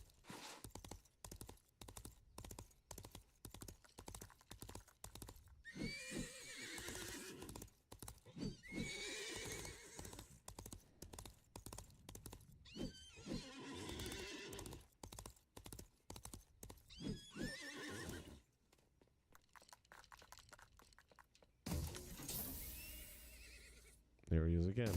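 A Maximus toy horse plays a recorded horse whinny and neigh along with clip-clop hoofbeats, repeating over and over as a loud electronic sound while a person talks over it.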